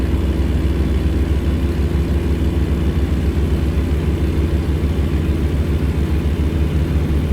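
Steady, loud diesel engine drone of a Kenworth W900 truck in American Truck Simulator, rumbling continuously at a constant pace with no talking, holding an even low throb throughout.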